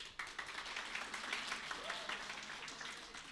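An audience applauds at a stand-up comedy show. The clapping is a steady, dense wash that carries on throughout.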